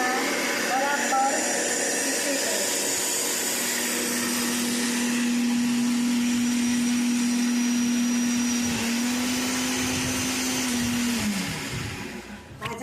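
Electric mixer grinder whirring steadily as it blends muskmelon seeds with sugar in a jar, a loud continuous motor drone with a sustained hum that runs for about eleven seconds before spinning down.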